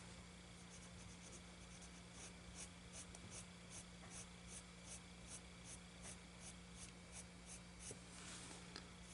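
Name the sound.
colored pencil coloring on paper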